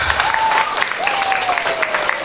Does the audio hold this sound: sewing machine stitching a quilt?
no